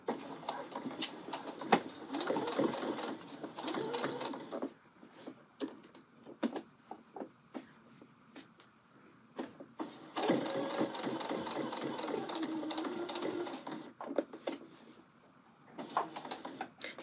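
Sewing machine stitching a pocket seam about a quarter inch from the edge, with backstitching: loud bursts of rapid motor whirring from 0 to 4.5 seconds and 10 to 14 seconds, short clicks and pauses between, and another burst at the end.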